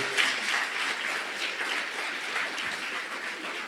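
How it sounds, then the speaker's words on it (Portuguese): Church congregation applauding during a 50th anniversary service at a Nazarene church in Olinda, a steady wash of many hands clapping at moderate distance, fairly even throughout with no voices standing out. "Você pode aplaudir ao Senhor, essa promessa se cumpriu"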